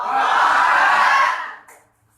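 A crowd of santri at a school stage performance in Klaten shouts takbir together, one loud, sustained collective cry of massed voices that swells and then fades into silence.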